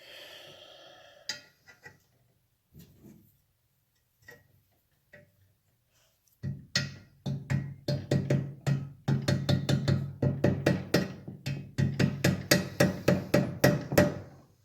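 A hammer taps a tapered neck bearing race into the steering head of a 1968 Triumph Bonneville motorcycle through an aluminum installation tool, a few scattered knocks first, then a long run of quick, ringing metallic taps close by.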